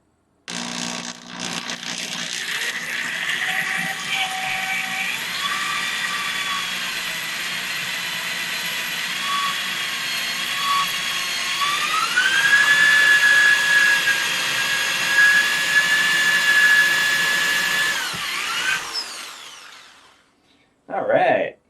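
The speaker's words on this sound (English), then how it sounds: "I've been waiting 4 days to drill these holes" A power drill bores holes into a wall to hang a monitor mount, a sustained whining motor that rises in pitch midway and runs steadily for most of the time before stopping abruptly.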